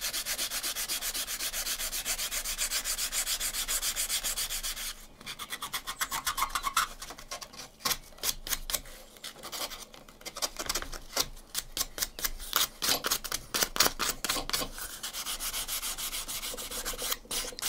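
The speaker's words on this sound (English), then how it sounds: "I'll do a little bit more sanding on that" Sandpaper rubs rapidly back and forth on a thin wooden arrow shaft, a dry rhythmic rasp that pauses briefly and resumes, close up with no talking.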